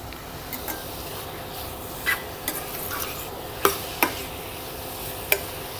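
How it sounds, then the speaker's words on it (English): Chicken cooks in a pan with a soft, steady sizzle, and a utensil scrapes and clinks against the pan in a handful of sharp, irregular knocks. "Now as that chicken cooks there"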